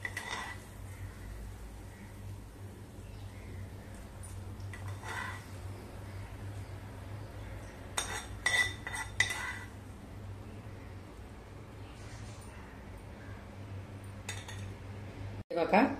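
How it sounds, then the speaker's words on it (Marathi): A spoon pouring a crackly tempering over a tray of besan dhokla, with light, scattered clinks of metal utensils against dishes and a faint voice in the background. "आता आपण ही केलेली फोडणी चमच्याने ढोकळ्यावरती घालूया."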